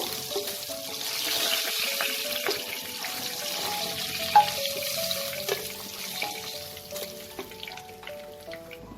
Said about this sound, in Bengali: মাছটা দুপাশে আমি খুব ভালো করে লাল করে ভেজে নিয়েছি